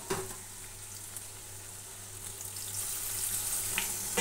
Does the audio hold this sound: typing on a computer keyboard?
no